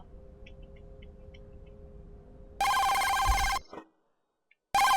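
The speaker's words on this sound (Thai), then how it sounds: "โทรศัพท์ดังแล้วผม" A telephone bell rings loudly at night, a sustained burst cutting in after a low electrical hum, stopping abruptly, then starting again after a short silence.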